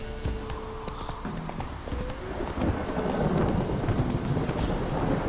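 Roach the horse gallops in the video game Witcher 3, a fast rhythmic run of hoof clip-clops under a soft rain-and-rumble ambience, with a faint voice at the start.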